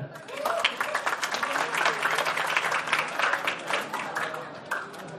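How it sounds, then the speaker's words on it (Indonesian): An audience claps for a speaker at a seminar, steady dense applause filling the room at moderate loudness with a few voices mixed in. "Sekali lagi aplaus untuk Pak Peter"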